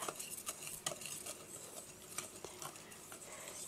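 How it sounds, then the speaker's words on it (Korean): Kaiserschmarrn batter stirred with a whisk in a bowl, quiet rhythmic scraping and tapping strokes heard close and alone. "살살 저으면서 섞어주세요"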